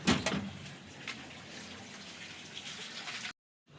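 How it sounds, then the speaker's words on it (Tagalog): Tap water spills over the rim of a full basin, a steady moderate trickle and splash that cuts off abruptly into silence. "Umaapaw na yung tubig."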